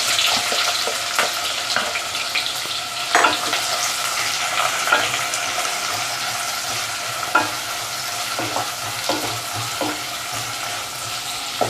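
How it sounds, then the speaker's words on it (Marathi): Onion sautés in a pan for chicken keema, a steady sizzle and hiss running throughout with frequent spoon scrapes and clinks against the pan as it is stirred. "कांदा 1-2 मिनिट परतून घेऊया आपण."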